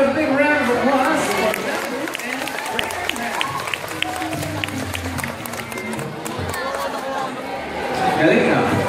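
Applause rises from an audience at a sea lion show in an ocean park, a steady wash of clapping with crowd chatter and an announcer's voice running over it the whole time.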